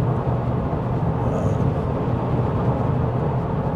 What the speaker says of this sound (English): See how the noise level is in the truck.